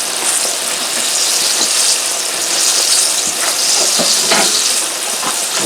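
Food fries in a pan with a loud, steady sizzle, close up, punctuated by occasional stirring clicks and scrapes.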